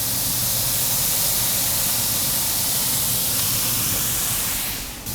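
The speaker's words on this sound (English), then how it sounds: "So get some water down on the grill." Water poured onto a hot grill beside smash burgers sizzles into steam, a loud, continuous hiss that holds steady and then eases off near the end.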